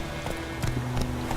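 Roach, the horse in The Witcher 3: Wild Hunt, gallops with quick, close hoofbeats in a brief burst.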